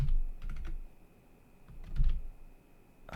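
Someone types a terminal command on a computer keyboard, two quick bursts of clicky keystrokes separated by a pause, close and fairly quiet.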